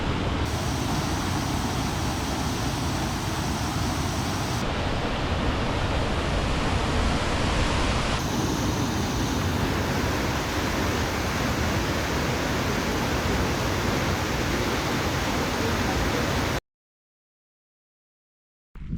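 Christine Falls, a waterfall in Mount Rainier National Park, pours in a steady, loud broadband roar that fills the scene without a break, with no voices, before cutting to silence near the end.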